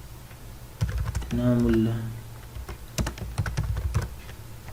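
JavaScript code being typed on a computer keyboard, a steady patter of close key clicks running beneath a voice speaking Hindi.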